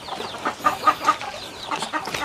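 Native chickens in a coop cluck in short, repeated bursts at close to middle distance, with a few sharper calls standing out over a continuous murmur of the flock.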